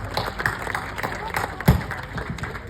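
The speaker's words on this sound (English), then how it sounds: "Give my panel a big round of applause" Audience applause for a panel at the Jaipur Literature Festival, a dense steady patter of many hands filling the hall, with a louder burst partway through and voices mixed in underneath.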